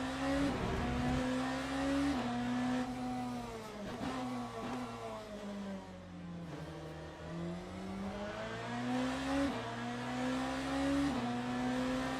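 A GT3 race car engine in the Le Mans Ultimate racing game on a rainy Le Mans circuit: a loud, close, sustained engine note that climbs and falls repeatedly through gear changes, with no voices.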